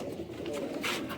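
A pair of striped pigeons kept for breeding gives one short, soft, low coo at close range, heard alone.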